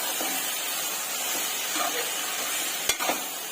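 A spoon stirring frying brinjal (eggplant) curry in a pan, a steady loud sizzle broken by a few soft scraping strokes and one sharp clink near the end.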